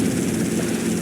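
A helicopter in the video game GTA Vice City gives a steady, loud rotor and engine drone that continues without a break.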